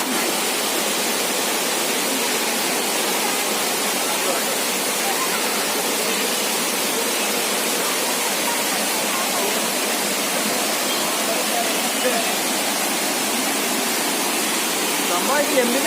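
Adyanpara waterfall in the Nilambur forest runs low in the dry season, its water flowing only down one side, yet it makes a steady, dense rush that stays constant and fairly loud throughout.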